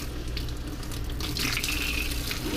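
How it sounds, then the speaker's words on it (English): A kitchen sink faucet in a 2016 Coachmen Mirada 35BH motorhome, its tip unscrewed, runs at full blast, making a loud, steady, close rushing of water that carries on without a break and with no talking. "you can go down here and really move some water. So pump out a lot of water."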